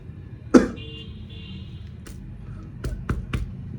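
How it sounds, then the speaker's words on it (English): A single sharp, fairly loud cough stands out early, followed by a few fainter clicks and taps against quiet background hiss. "You cough into the side"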